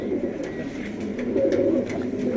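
Fancy pigeons at a 2017 club show in Aiginio coo close by, with soft, repeated throaty calls over a low, continuous murmur.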